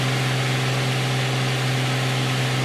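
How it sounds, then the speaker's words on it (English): Steady airframe wind rushes over an aircraft in Microsoft Flight Simulator 2020 with the FSRealistic add-on, a loud, unbroken broadband roar layered with a constant low engine drone and no talking. "definite airframe wind"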